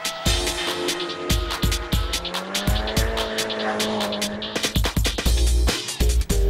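A drift car taking a corner with a clutch kick, its tires squealing in long sustained screeches over a loud, revving engine, with sharp bursts and gear changes close by.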